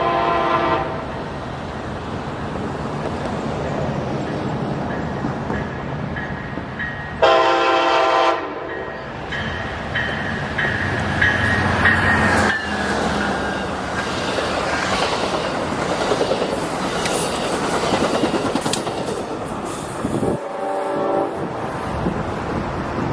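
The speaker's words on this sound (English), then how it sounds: "1774 to come on through and do a really, really long crossing horn sequence" Amtrak train 1774 in North County San Diego sounds a long crossing horn sequence of widely spaced blasts over the steady roar and rattle of the passing train, heard from trackside.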